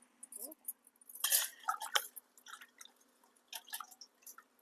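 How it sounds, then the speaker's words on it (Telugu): Raw mutton pieces are washed by hand in a bowl of water in a home kitchen, with close splashes, drips and wet squelches coming in irregular bursts. "ఇవి కూడా మటన్లో వేసేసి శుభ్రంగా మొత్తం అన్నీ కడిగేద్దాం"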